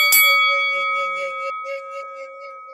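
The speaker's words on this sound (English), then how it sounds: "hit that notification bell" A notification bell sound effect strikes once at the start, a bright metallic chime that rings out and slowly fades over the next few seconds.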